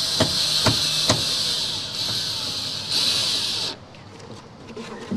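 A power drill drives screws into an inground pool skimmer, whirring steadily and loud with a few sharp clicks as it bites, then stopping abruptly near the end.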